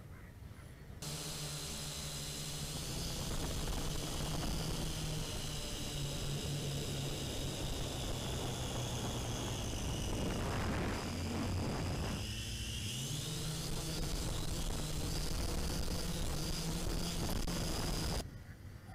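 A Feilun FX122 camera gimbal drone hovering near a lake and then descending, its propellers giving a steady close buzzing whine whose pitch shifts and dips midway through the descent before holding level, then cutting off.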